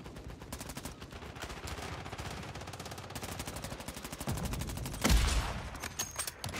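Rapid automatic gunfire from a video game shooter rattles in continuous bursts, moderately loud, with a heavier blast near the five-second mark before the firing thins out.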